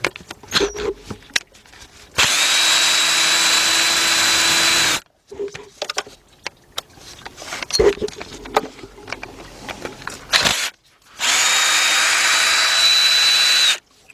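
A power tool runs on 8mm bolts on the 3.7-litre engine of a 2003 Jeep Liberty Sport during a partial rebuild. There are three long, loud whirring bursts, separated by clattering tool and handling noises.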